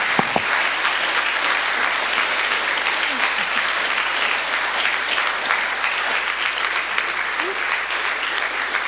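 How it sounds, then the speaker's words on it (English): Audience applause at an evening talk event, steady dense clapping from a large crowd filling the full span at a constant level, with no pauses. "Can we give Kat another round of applause"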